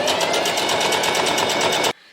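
A sewing machine stitches copper fabric skirt pieces together in one loud, fast, even run of needle strokes that stops abruptly near the end, leaving quiet.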